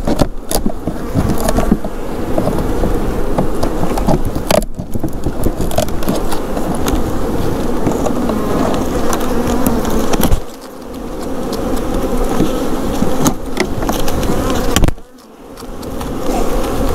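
Packaged honey bees are shaken out of their box, giving a loud, dense, continuous buzzing swarm close up, broken by a few sharp knocks and brief dips where the package is jolted.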